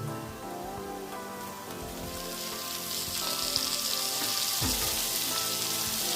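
Paneer with turmeric powder sizzling in a hot pan, a steady dense crackle that grows louder partway through, with occasional stirring scrapes and no talking.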